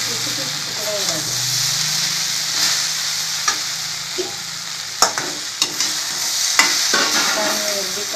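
Okra dusted with turmeric stir-fries in a pan with a constant close sizzle and sharp clicks and scrapes from a spatula, while a person talks over it in the first half.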